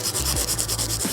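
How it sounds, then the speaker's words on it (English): A nail file rubs gently back and forth against the base of a full cover acrylic nail tip, making close, even rasping strokes in a steady rhythm, with no talking. "All you can do is just gently file the base"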